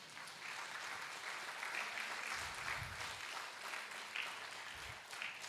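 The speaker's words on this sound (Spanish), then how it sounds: "Dele un fuerte aplauso al Señor." Faint, distant applause from a church congregation, a steady wash of clapping with a few low thumps underneath.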